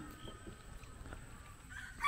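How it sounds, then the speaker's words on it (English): A rooster crows in a hot, humid rural village in Bangladesh, among fields and cows, faint and somewhat distant over low outdoor background noise. "and you can hear the rooster"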